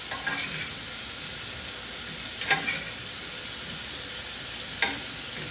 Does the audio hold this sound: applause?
no